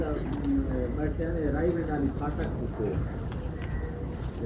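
A large pigeon coos close by in repeated throaty, rolling phrases, steady and fairly loud over a busy background.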